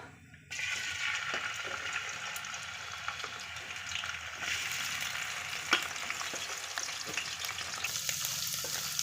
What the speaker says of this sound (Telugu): స్టవ్ మీద ఆయిల్ పెట్టేసుకొని ఈ రొయ్యల్ని ఫ్రై చేసుకుందాం ముందు